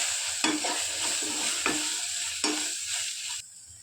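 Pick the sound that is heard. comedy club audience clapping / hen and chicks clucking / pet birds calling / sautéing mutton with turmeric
sautéing mutton with turmeric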